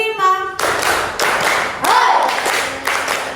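A grade 6 class claps together in a steady rhythm in a classroom, a few sharp hand claps in sequence after a brief sung note at the start.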